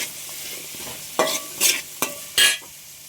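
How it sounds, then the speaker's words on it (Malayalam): Sliced onions with salt sautéing in a pan for a roasted-coconut chicken curry, a soft steady sizzle broken by four sharp scraping stirs of a spoon against the pan. "ഉള്ളിയൊക്കെ നന്നായിട്ട് വഴന്ന് വന്നിട്ടുണ്ട്."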